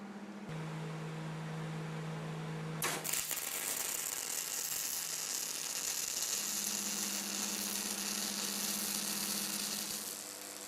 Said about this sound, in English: Inside the welding machine is a 15 kilo spool of filler rod, which is fed by rollers into the torch.